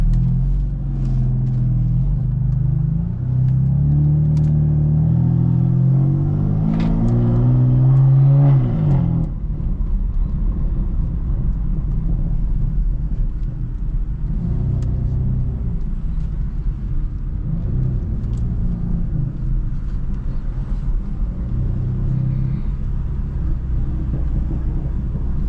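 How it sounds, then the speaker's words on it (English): BMW F82 M4 in a parking garage, its deep engine rumble rising through rising and falling revs in the first stretch, then settling into a loud, steady, echoing low burble. "Let's go listen to the car in the garage."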